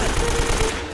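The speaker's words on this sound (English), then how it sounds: "Where are the rest of these people shooting from?" Gunfire in an Uncharted shootout: a rapid, loud burst of automatic shots fills a brief moment, ending with one sharper crack, with a voice faintly under the shooting.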